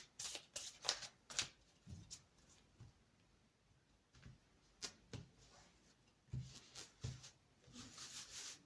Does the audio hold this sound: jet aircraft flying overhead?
no